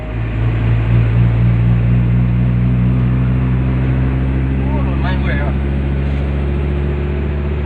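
A car engine pulls steadily in fourth gear, a loud low droning hum with a faint rising pitch under the road noise, while someone speaks over it.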